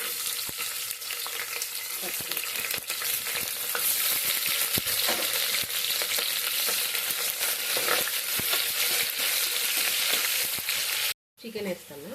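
Onions fry in a pan with spices for chicken pulao, giving a steady, close sizzle with scraping stirs throughout and a brief gap near the end.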